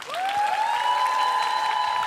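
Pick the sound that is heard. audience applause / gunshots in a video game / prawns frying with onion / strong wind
audience applause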